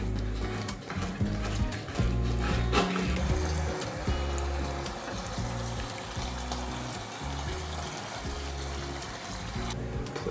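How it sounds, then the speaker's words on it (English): Water being drained out of a home fish tank fitted with driftwood collected from a dam, a continuous sloshing, gurgling flow that stays fairly close and steady, with muffled handling knocks and no talk. "So I'm gonna start taking out the water."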